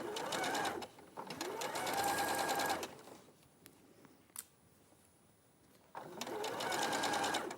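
A sewing machine stitches a bulky seam in stretch fabric, running in two close, steady bursts of fast whirring with a quiet pause between them.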